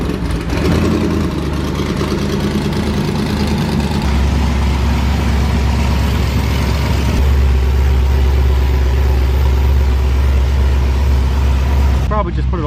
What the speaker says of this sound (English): So listen to the difference now when you crank it